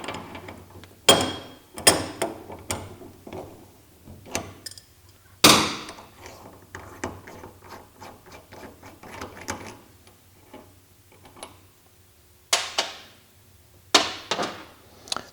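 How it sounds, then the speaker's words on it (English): A socket wrench works the locking nut off a QA1 ball joint, giving a run of sharp metallic clicks and ratcheting bursts at irregular intervals, close and fairly loud, with quieter scraping between them and no talk. "we will use the socket first to remove the locking nut"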